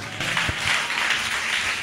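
Congregation at a church sermon clapping together, a dense burst of hand claps lasting under two seconds with a few louder taps near the start, moderately loud and close.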